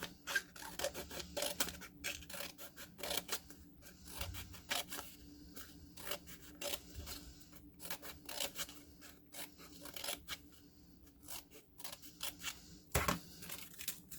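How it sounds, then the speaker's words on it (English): Scissors cut into a rolled sheet of paper to make a fringe for a hat, giving a run of irregular, close snips and crisp paper rustles that come in quick clusters with brief pauses. "I'll carefully start cutting, remembering to leave a little bit of space at the top"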